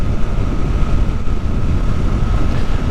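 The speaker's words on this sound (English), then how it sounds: "The sound of this engine is excellent. It has a very, very throaty sound to it." A 2024 Suzuki GSX-8R motorcycle engine drones with a loud, continuous, bassy, throaty rumble while riding, steady in pitch with wind-like roar over the top and no speech.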